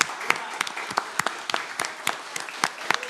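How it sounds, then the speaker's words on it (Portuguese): A crowd claps in steady applause during a legislative council session, sharp overlapping hand claps filling the space at moderate volume with no voices. "uma salva de palmas aí para o garoto Matheus."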